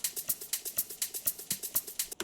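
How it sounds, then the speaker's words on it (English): An Afro house shaker sample layered with the kick, ticking in a fast, even pattern of crisp bright hits at low volume, alone without other instruments. "The shaker, first shaker sounds like this."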